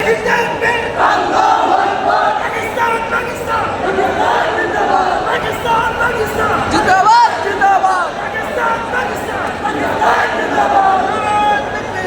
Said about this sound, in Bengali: বাহিরে যাওয়ার সময় একবার স্লোগান দিয়েছেন পাকিস্তান পাকিস্তান বলে তো চলুন শুনে আসি ভাই স্লোগানটা